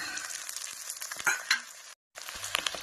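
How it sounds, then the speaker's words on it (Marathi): Potato frying in a pan for sabudana khichdi, a close steady sizzle with stirring scrapes and a couple of louder crackles, cut by a short silent gap before the frying resumes. "बटाटा टाकला आता मीठ चला आता पण टाकून घेतला आता मस्त ह्याला फ्राय करून देते"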